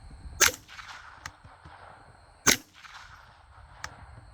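A suppressed 10/22 rifle with an integral barrel fires Aguila subsonic rounds. There are two sharp, fairly quiet reports about two seconds apart, each followed by a brief mechanical clack.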